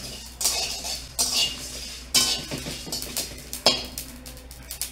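Fenugreek, fennel and coriander seeds dry-roasting in a pan without oil are stirred with a utensil, giving a few distinct scraping clinks and light rattles at a low, close level.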